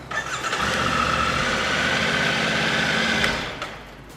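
A Triumph Tiger 900 Rally Pro motorcycle engine cranks with a starter whir, catches and runs briefly at a steady idle before dying away, heard close with no voices.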